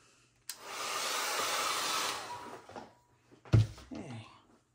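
A hair dryer runs for about two seconds on a mixed media painting layer, a steady close whooshing blow that starts abruptly and cuts off, followed by brief clattering handling noises, with a voice heard faintly.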